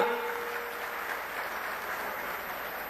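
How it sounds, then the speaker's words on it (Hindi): A crowd at an outdoor political rally in Kurukshetra, Haryana, applauds in a steady, moderately distant wash of clapping that fills the whole moment without pause. "उनके लिए भी जोरदार तालियां"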